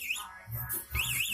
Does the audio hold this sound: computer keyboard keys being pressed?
no